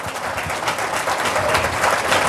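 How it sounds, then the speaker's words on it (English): A political audience at a Michigan governor candidate's event applauds a proposed tax cut, a steady wash of many hands clapping at an even, fairly loud level throughout. "you can clap for that"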